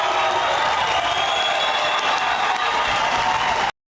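Large crowd cheering and applauding steadily at a stage, a dense, continuous roar of clapping and voices that cuts off abruptly at the end.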